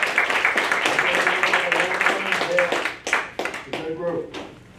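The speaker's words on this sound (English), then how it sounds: "let's give this guy a round of applause" Attendees at a local party meeting break into clapping, a busy crackle of hands in a room that tapers off toward the end as voices come through.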